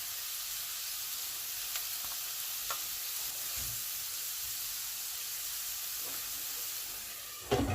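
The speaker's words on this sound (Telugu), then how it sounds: "ఈ ఉల్లిపాయలు మగ్గడానికి కొంచెం సాల్ట్ వేస్తున్నాను" Sliced onions cooking with salt in a pan for Rajasthani-style moong dal palak, an even, close, continuous sizzle with faint scrapes and clicks, ending in a short clatter.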